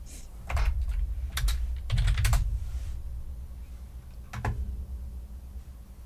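Keys clack on a computer keyboard in short bursts of typing with brief pauses between, close and fairly quiet, with no voices.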